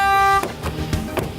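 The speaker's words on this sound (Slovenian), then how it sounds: "ko sem dal ključe Anžetu, pa vmes ni hotel trobiti" A 2017 Opel Mokka X 1.4 Turbo sounds one loud, steady horn blast, triggered remotely, that cuts off sharply after a moment, leaving quiet outdoor ambience with a few soft clicks.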